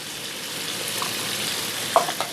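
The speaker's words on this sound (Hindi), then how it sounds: "अब इसके साथ मैं इसको भूनूंगी" Spiced mutton chops frying with a quarter kilo of tomato puree, a continuous close sizzle with a couple of brief utensil scrapes near the end.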